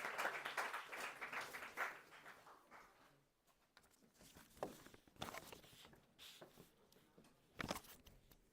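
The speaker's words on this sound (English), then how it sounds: "Let's put a huge round of applause to welcome sir." Audience applause welcoming a speaker at a technical conference session, a brief round of clapping in a hall that fades after about three seconds, followed by scattered faint sounds and rustling.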